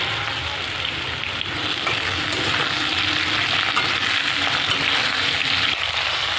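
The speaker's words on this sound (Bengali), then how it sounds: "এবার লঙ্কাগুলো দিয়ে দেবো" Green chillies sizzle and fry in hot oil along with potatoes for a Bengali fish dish, a steady dense crackle with occasional stirring, close and loud throughout.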